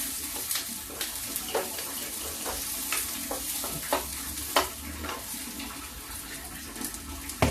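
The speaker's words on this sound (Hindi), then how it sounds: "तो मेरा प्याज लहसुन पक जाता है" Onion and garlic fry in a pan while being stirred for millet kachori, a steady sizzle broken by repeated clinks and scrapes of a spoon, with running water in the background.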